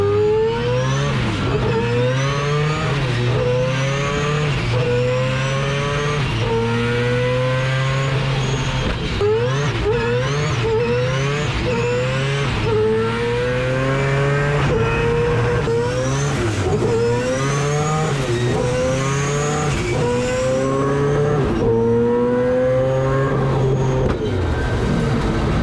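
A four-rotor race car on a run pulls hard through the gears, its loud rotary engine rising in pitch in repeated sweeps with sharp drops at each shift, close and continuous throughout.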